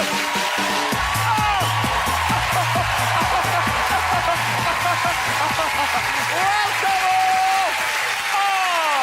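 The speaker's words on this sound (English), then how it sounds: "a huge dollop of crazy excited cheering" A television talk-show studio audience bursts into loud, sustained applause mixed with excited cheers and whoops, a dense, continuous roar that never lets up.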